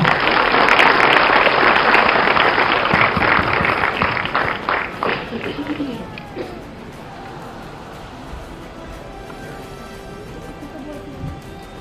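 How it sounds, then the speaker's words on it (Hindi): Loud applause from a political gathering's audience as the Shiv Sena chief is welcomed onto the stage, dense and sustained clapping for about six seconds before fading to a softer murmur. "आइए जोरदार तालियों के साथ हम यहाँ इस मंच पर स्वागत करते हैं शिवसेना अध्यक्ष उद्धव जी ठाकरे साहब।"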